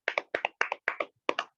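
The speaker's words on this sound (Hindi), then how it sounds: "आइए हम सभी आगे के वचन के लिए ताली बजाकर फिनी अंकल का स्वागत करें" A congregation at a Hindi devotional church gathering claps in rhythmic paired bursts to welcome a speaker, crisp and close, with short gaps between the groups of claps.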